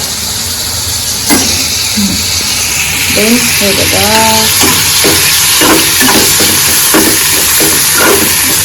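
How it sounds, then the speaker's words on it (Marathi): A pan of mushroom masala bubbles and sizzles steadily while a person speaks briefly over it. "मशरूम मसाला तोपर्यंत छानसा उकळत आहे"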